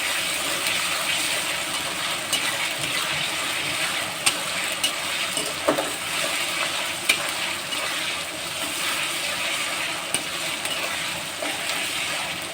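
Green chillies fry with ginger and garlic for a drumstick, prawn and potato curry, giving a steady, even hiss of sizzling oil with a few faint clicks and no voices.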